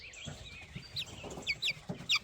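Salmon Faverolles laying hen with feathered feet clucking softly nearby, a series of short, irregular clucks and murmurs against a quiet barnyard background.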